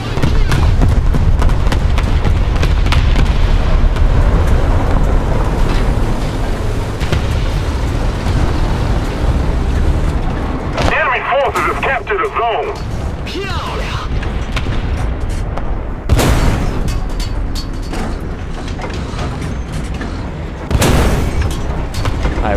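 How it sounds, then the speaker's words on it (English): An artillery strike in the War Thunder tank game: loud, rumbling explosions and booms roll continuously, with sharper blasts standing out near the middle and end, layered over dense battle noise. "Call artillery on A."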